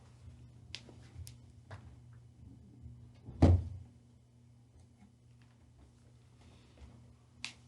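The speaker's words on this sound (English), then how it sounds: "Let me shut the door real quick." A door is shut once indoors, giving a single solid thud partway through against a quiet room with a steady low hum and a few small clicks.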